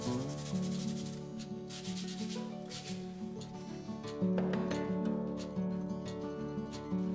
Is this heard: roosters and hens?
no